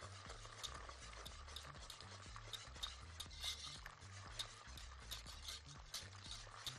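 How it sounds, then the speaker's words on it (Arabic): Wire whisk stirring broccoli cheddar soup mixture in a pot right after boiling water is poured in, a steady close scraping and swishing with rhythmic clinks against the metal, continuous and alone. "وأقلب أقلب أقلب"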